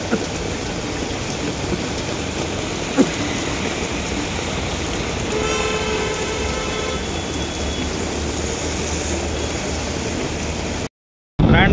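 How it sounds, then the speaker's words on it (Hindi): Heavy rain pours steadily and loudly near a road in Dehradun, a dense unbroken hiss throughout with a brief clunk early on, before cutting off abruptly at the end. "बारिश फिर दोबारा तेज हो गई,"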